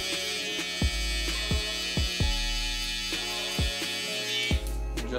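Electric hair trimmers hum steadily at close range during a beard lineup, with a series of sharp, regular clicks or taps breaking through the buzz roughly every half second.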